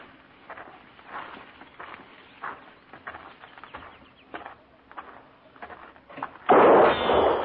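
A single gunshot fired from inside a hut, a radio drama sound effect for a 1950s Western, bursts out loud and sharp near the end after several seconds of quieter shuffling and rustling.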